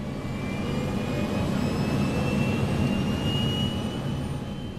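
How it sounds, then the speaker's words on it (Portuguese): Airliner jet engines roaring at takeoff thrust as the plane accelerates down the runway, a loud steady broadband rumble with a faint rising whine, no voices. "O avião está na pista, acelerando, ficando muito rápido."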